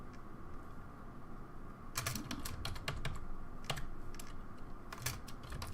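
Typing on a computer keyboard, steady clicking keystrokes close up with bursts of faster rapid strokes, over a constant low hum and no talk.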